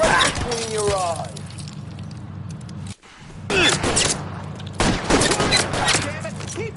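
Gunfire in an L.A. Noire shootout comes as bursts of rapid shots with breaking-glass crashes, loud and close, separated by a brief drop-out, with voices talking over the fight.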